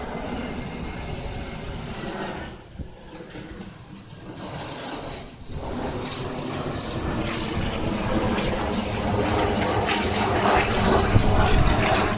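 A steady, loud engine roar of an airplane passing overhead, the drone dipping briefly before swelling again and holding.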